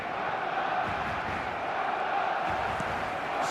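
A stadium crowd at a football match applauds and murmurs in a steady, dense wash of noise that holds evenly for several seconds without a clear peak.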